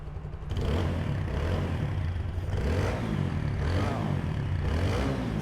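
A used Bangladeshi 4V motorcycle engine with only 5,000 km on it idles steadily and close by, a constant low rumble with light mechanical clatter layered on top and no talking.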